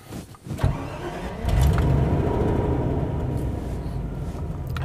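A 1990 Land Rover Discovery V8 cranks briefly, fires up loudly at close range, then settles into a steady, rumbling idle.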